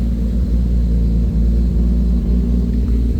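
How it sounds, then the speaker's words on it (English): A Lexus IS300 with a swapped 2JZ-GTE engine rumbles loudly and steadily up close, a deep low burble with faint ticking pulses and no clear separate rev peaks. "I'm gonna give you guys a couple revs out of it."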